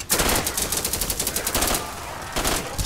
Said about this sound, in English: I'm shooting my own people right now.